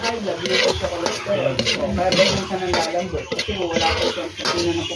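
Bataw (hyacinth beans) sizzle in a pan over a wood fire, with a loud continuous frying hiss and frequent clanks of a metal utensil scraping and stirring, while people talk nearby.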